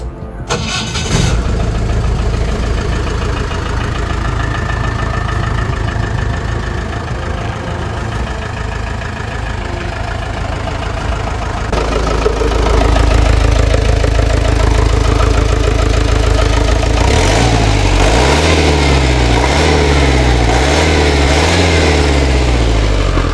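A used jeep with a fully reworked engine cranks and fires up, then settles into a loud, steady, throbbing idle close by, with a rougher rhythmic pulse late on.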